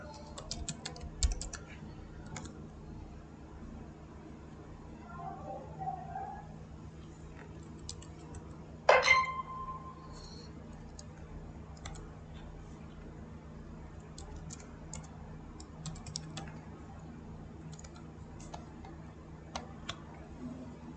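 Computer keyboard typing at a desk while code is entered, with sparse, faint key clicks scattered over quiet room noise and one louder clack partway through.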